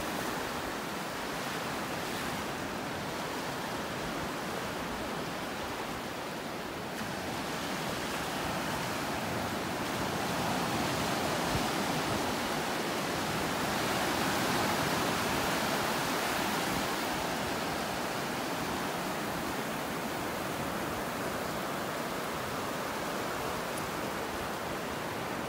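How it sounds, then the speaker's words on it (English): Small ocean waves break on a beach in North Naples, Florida, a steady broadband wash of surf with gentle swells, fairly close and continuous with no voices. "Little waves out here."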